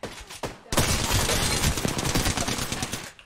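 Gunfire in Apex Legends, beginning with a few single shots and then a dense, loud burst of rapid automatic fire held for several seconds, close by with no speech.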